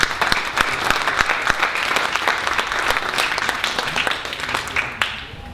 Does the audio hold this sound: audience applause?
yes